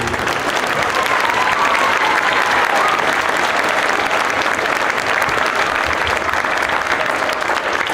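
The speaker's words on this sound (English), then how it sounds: "Let's give it up for our administration." Audience at an All City Band concert in a high school applauds the school administration, a dense, steady wash of clapping that stays loud and even for the whole stretch, with scattered crowd noise mixed in.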